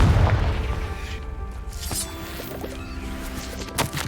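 A Confringo blasting spell detonates in Hogwarts Legacy, a loud booming explosion that rolls into a sustained rumble with scattered crackling debris.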